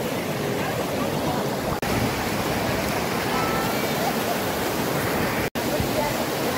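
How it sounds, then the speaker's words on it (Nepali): River water from the Kokaha pours steadily into the Saptakoshi, a loud, unbroken broadband rush close by with no distinct splashes. "यो कोकाहाको पानी चाहिँ यसरी सप्तकोशीमा यसरी मिसिन्छ"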